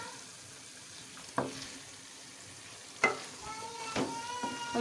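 Masala spices fry in oil in a pan with a soft, low sizzle, punctuated by three or four sharp spoon scrapes and taps against the pan.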